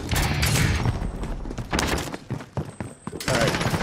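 Bursts of video game gunfire crackle in several clusters, sharp volleys and thuds separated by brief gaps, loud and close, with players' voices chattering over the shooting.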